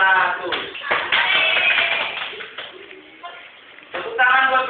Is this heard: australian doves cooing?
no